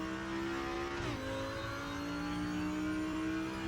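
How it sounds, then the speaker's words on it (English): An Audi GT4 race car engine in a racing video game, a steady buzzing drone that briefly dips and settles at a new pitch, as after a gear change, fairly quiet and without talking; no distinct exhaust pops stand out. "you got that fantastic pop, spit and barble back through the exhaust"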